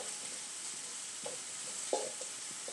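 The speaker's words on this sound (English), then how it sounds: "we don't want to do too much with this, apart from give it a good stir." Savoy cabbage sizzles quietly in a pan with a soft, steady hiss, while a few brief scraping clicks from stirring break through.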